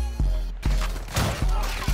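Bryson 890 shotgun blasts in Modern Warfare 2, four heavy booming shots spaced roughly half a second apart, each with a short rumbling tail, loud and close.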